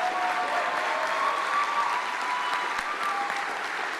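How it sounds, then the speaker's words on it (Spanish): A church congregation applauds during a ceremony for pastoral assistants, a dense continuous wash of clapping that holds steady from start to finish, fairly loud and with no talk. "Cristian, un fuerte aplauso."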